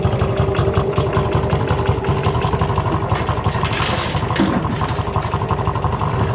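A BMW flat twin motorcycle engine idles loudly and close, its steady low lumpy pulsing continuing as the idle speed settles lower, with no voices.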